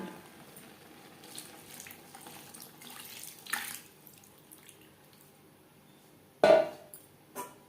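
Water poured into a simmering pea-and-pabda fish curry after rinsing the bowl used for mashing peas: faint background sizzle, a soft splash near the middle, then a louder, brief pour and clatter near the end.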